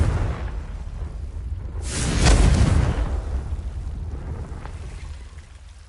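A Confringo fire spell blast in the Hogwarts Legacy video game, a whooshing rumble that swells into a loud booming burst near the middle, then decays into a low fading roar, with no speech.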